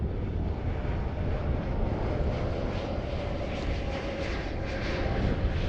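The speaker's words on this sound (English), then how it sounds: "Airbus 320." An Airbus A320 airliner at Heathrow Airport makes a broad, steady jet-engine roar that holds loud and even throughout, with a faint wind rush and no talk.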